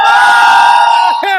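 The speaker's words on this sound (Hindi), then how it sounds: "नहीं चलेगी, नहीं चलेगी, क्योंकि भीड़ बहुत है, रश बहुत है।" Large protest crowd at Jantar Mantar at night, a loud massed shout held as one sustained roar of many voices, breaking into a couple of short rising calls at the end.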